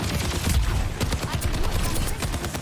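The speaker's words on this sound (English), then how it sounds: "this is the problem with Soldier's gun, right" Rapid automatic rifle fire from Soldier in Overwatch 2 crackles in quick bursts through a busy competitive match, with game noise and a voice underneath.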